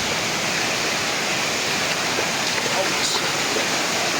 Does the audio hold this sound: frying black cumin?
no